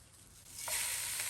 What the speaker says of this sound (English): This should be a good healthy sizzle right from the get-go.